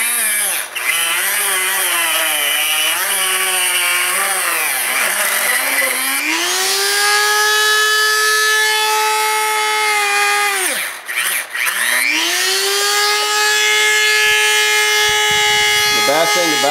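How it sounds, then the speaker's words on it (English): A Dremel rotary tool grinds loudly up close through a silicone intake tube for a 2008 Nissan 350Z, its high whine dipping and rising as the bit bogs under load, briefly pausing, then spinning back up. "it's the hardest to cut that this Dremel's ever had to go through"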